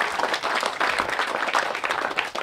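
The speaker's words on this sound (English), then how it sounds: "Let's clap for him anyways." An audience claps at a groundbreaking ceremony for a field machining division headquarters, giving a steady, crackling round of applause from many hands that swells and dips slightly over a couple of seconds.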